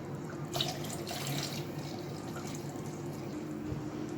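Water poured gradually from a cup into a dough mix during baking, a continuous close trickling and splashing stream of liquid that runs steadily for several seconds.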